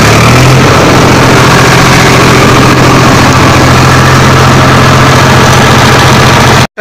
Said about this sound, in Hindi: भैया जी हमें आप ट्रैक्टर की आवाज़ सुनाएंगे